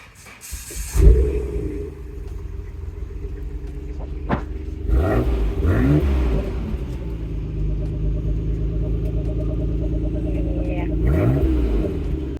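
Car engine rumbling close by, with a loud burst near the start and then a sustained low drone as the car revs and pulls away; a voice briefly mixes in.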